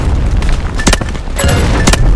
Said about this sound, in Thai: มีคนโดนระเบิด